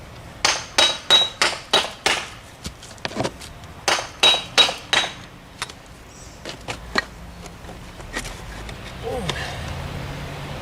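A hammer strikes masonry stones in a rapid series of sharp, ringing blows as they are trimmed for stone steps, followed by a few scattered taps and quieter shuffling.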